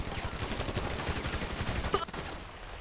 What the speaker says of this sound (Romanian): A tras colegul, focuri de armă